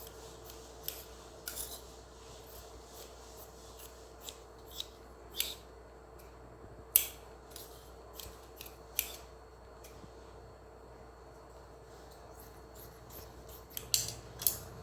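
Scissors snip through blouse fabric in a series of short, crisp cuts, close and alone in a quiet room, spaced irregularly with a quick cluster near the end.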